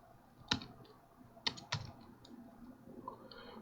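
Keys tapped on a computer keyboard while switching layouts on a Windows machine, a few sparse, sharp clicks in a quiet room with no talking.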